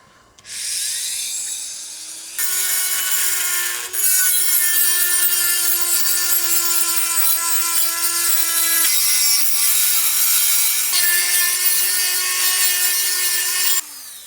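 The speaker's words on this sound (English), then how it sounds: "And you have to Dremel these studs out." A basic Dremel rotary tool grinds out the worn wiper pivot studs on a wiper transmission, a steady high-pitched whine that shifts pitch a few times and runs almost continuously for about twelve seconds.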